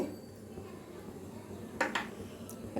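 A small pan set down on a stove to temper a grated raw mango pickle, heard as a couple of brief metallic clinks over a quiet kitchen background hum.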